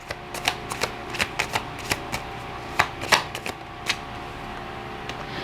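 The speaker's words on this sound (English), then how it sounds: "We'll still pull a card on that." Tarot cards being shuffled and drawn, a run of crisp papery riffles and snaps in uneven bursts, close and fairly quiet with no talking.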